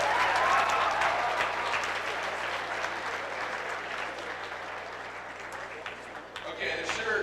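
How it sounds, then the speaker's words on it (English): A large room of DECA conference attendees applauds at a keynote speech, steady dense clapping from start to finish that eases slightly near the end, with no voices over it. "So give yourself a round of applause."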